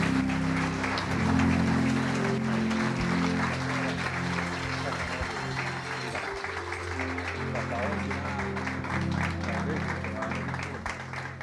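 Church congregation applauding, a dense, steady wash of clapping that fills the room and holds throughout, with voices mixed in beneath.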